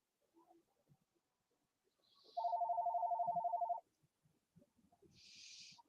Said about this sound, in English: Someone had a phone call.